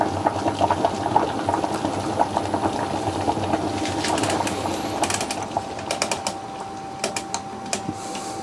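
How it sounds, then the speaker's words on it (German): Seafood chowder bubbles briefly in a pot, with a steady simmering burble and sharp popping bubbles growing more frequent near the end, heard up close without talk. "Lassen das Ganze noch mal ganz kurz aufkochen"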